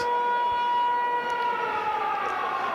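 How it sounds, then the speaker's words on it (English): An air raid siren wails loudly and steadily through a rugby stadium at a South Africa versus Wales match, a sustained rising tone over the crowd's background roar. "The air raid siren goes off."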